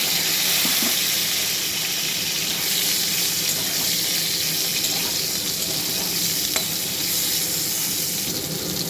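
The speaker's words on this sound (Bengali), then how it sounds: "এবার আমি সেদ্ধ করা ডাঁটাগুলো হালকা ভেজে নেব।" Boiled drumstick stalks fry lightly in a little oil in a wok, seasoned with a five-spice tempering. The sizzle is a steady, loud, close hiss that runs the whole time, with faint stirring clicks and no talking.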